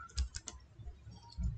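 Quick, light keystrokes tap on an HP laptop keyboard, a short burst of a few clicks close to the microphone, quiet and crisp with no voices.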